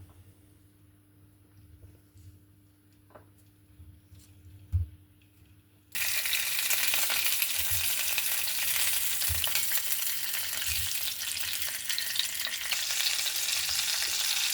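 Loud, steady sizzling of Silesian sausage and onion frying in hot olive oil, starting abruptly after a few quiet seconds with faint clinks and stirring.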